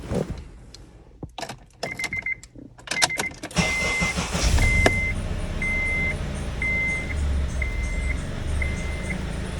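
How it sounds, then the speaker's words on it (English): Keys jangle and rattle, then a 2002-2006 Honda CR-V engine cranks and settles into a steady run, with a rapid, regular high chirp repeating from the belt pulley. "I'm aware of that pulley noise"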